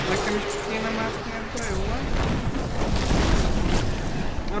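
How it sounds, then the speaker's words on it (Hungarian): Explosions and booming blasts from the Diablo 3 action game during the New Tristram battle, dense and continuous under game music and overlapping voices throughout. "A robbanás az nem jó dolog."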